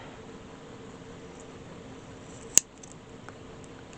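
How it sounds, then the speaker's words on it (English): Scissors make a single sharp snip through a strip of paper at a craft table, close, over quiet room hiss, with a faint tick just after. "And I'll snip this"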